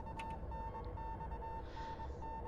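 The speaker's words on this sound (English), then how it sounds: "There's an incessant beeping like from a telegraph." A horror video game gives off a faint, steady stream of short telegraph-like beeps at an even rhythm over a low background rumble.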